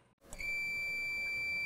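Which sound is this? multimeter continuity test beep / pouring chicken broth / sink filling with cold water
multimeter continuity test beep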